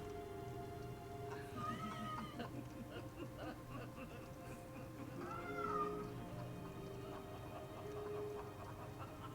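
A cat meows several times, clear rising-falling cries standing out over a quiet background of dark fantasy game music and sounds from Dark Souls II.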